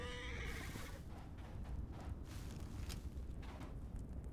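Skeleton horse in a video game neighing, a whinnying call standing out early against a steady wash of background noise and faint clattering.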